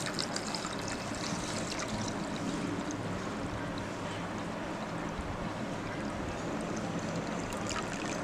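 Water pours into a Goan sol kadhi mixture of chili, ginger, garlic and sugar, a steady continuous trickling and splashing at close range with no talk over it.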